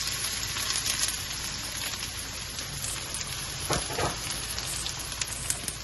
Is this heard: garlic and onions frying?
yes